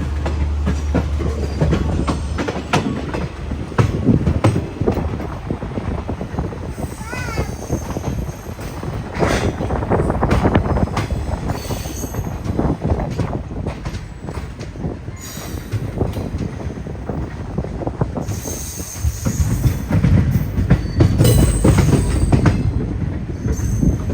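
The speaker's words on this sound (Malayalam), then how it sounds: "തിരുനെൽവേലി ജാംനഗർ എക്സ്പ്രസ് ആണ് ഈ വരുന്നത്." Ernakulam to Velankanni express train running on rails, a steady loud rumble of wheels over track with clattering joints and brief wheel squeals, the noise swelling near the end.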